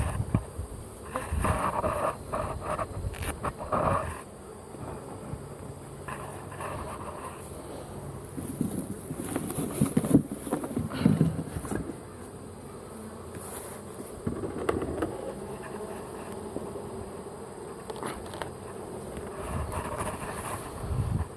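Honey bees buzz around an opened beehive, a dense, continuous close drone that swells and fades, with some wind rumble and handling noise now and then.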